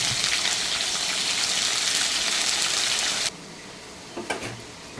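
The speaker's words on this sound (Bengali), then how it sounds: "এখন আমি আলুটাকে ভেজে নেব।" Potatoes frying in mustard oil in a pan, a loud dense sizzle that drops off suddenly to a quiet hiss, followed by a few faint clinks.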